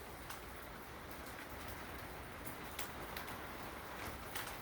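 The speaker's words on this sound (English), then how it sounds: "and the rain has begun." Steady rain falls outside a front porch, a soft continuous hiss with faint patter throughout, fairly quiet and unbroken, with no one talking.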